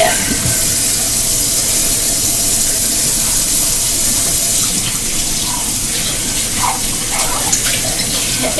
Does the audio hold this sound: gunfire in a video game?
no